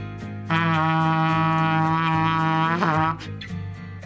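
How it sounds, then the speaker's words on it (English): A piccolo trumpet plays its lowest note with all three valves pressed: one steady, brassy tone held loud and near for about two and a half seconds, bending briefly before it stops. Quiet background sound comes before and after it. "all 3 valves lets you play the lowest note"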